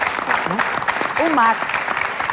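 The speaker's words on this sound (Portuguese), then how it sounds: "Um grande aplauso." A studio audience claps for guests arriving on a Portuguese variety show, the applause running under a presenter's voice speaking over it.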